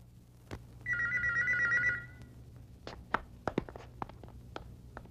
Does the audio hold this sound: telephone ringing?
yes